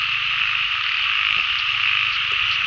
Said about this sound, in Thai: เสียงกบเสียงเขียดห้องนี่